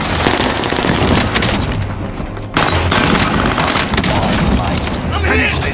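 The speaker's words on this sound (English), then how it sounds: "We're taking shots." Heavy, continuous gunfire in the Call of Duty Warzone video game, loud and dense automatic bursts with booming shots, a brief dip midway before firing resumes at full intensity.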